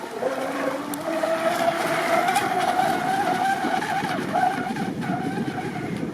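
A brushless RC boat runs at full throttle, its electric motor whining steadily at a high pitch with a hissing wash of water, loud and continuous across the whole stretch.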